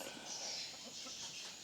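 Chickens being groomed and cared for cluck faintly and intermittently at a distance, soft and low against a quiet background with no talking.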